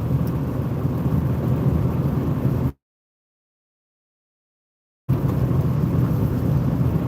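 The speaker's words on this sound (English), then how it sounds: "It is raining." Rain drums on a car driving at night, a loud steady wash of road and rain noise with rumble, dropping to total silence for a couple of seconds before resuming.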